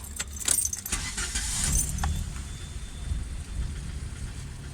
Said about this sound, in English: I'm gonna start the car.